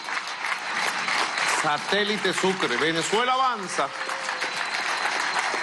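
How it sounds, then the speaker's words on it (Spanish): Applause from a crowd at a Venezuelan government broadcast rolls on steadily under a voice speaking in the middle, a continuous clapping wash that holds at even loudness on both sides of the talk. "Un aplauso, vale."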